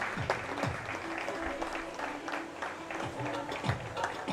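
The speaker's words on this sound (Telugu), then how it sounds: "అందరూ చప్పట్లు కొడదాం." Audience clapping to welcome Reverend Moparthi John at a John Wesley birthday celebration in Vijayawada, a steady moderate patter of many hands under a faint background hum.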